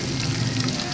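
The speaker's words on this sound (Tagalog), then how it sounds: "lagay natin yung kalahating sibuyas na pula." Red onion hits hot oil in a pan with a loud, dense, continuous sizzle that runs throughout.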